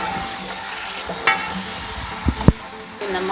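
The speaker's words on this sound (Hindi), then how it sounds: "इसमें 1 कप जो मैंने ऑयल रखा हुआ था वो डालने लगी हूँ। ये बटेर मैं डालने लगी हूँ।" Quail dropped into about a cup of hot oil over a medium flame, frying with a steady close sizzle and a few louder spatters and clatters partway through.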